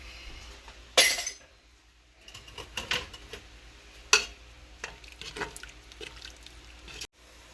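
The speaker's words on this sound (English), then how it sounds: "and then we stir" A spoon stirs thickening beef stew gravy in a pot, giving occasional sharp clinks against the pot and soft scraping and bubbling between them, close by, with no talking.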